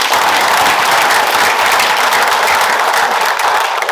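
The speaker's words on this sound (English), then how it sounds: "Please applaud for our mayor." A crowd at a Rotary Christmas gathering in Chilliwack applauds the mayor with loud, close, dense clapping that continues evenly without a break.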